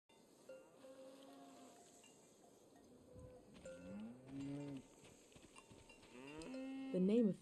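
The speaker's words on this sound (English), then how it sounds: "A beautiful cow named Gorp." Cows in the video game Season moo in long, low calls, several overlapping and growing louder, while a cowbell clanks faintly and a soft outdoor ambience with insect buzz runs beneath.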